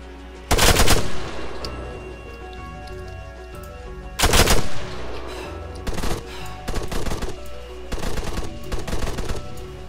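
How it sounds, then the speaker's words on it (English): Bursts of automatic gunfire in the Arma 3 Wasteland game, fired through trees: a long loud volley near the start, another around four seconds, then several shorter rattling bursts, with no talk. "I'm just shooting through the trees."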